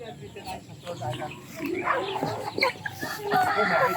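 Light Sussex chickens clucking and calling nearby in a farmyard, with a person talking over them.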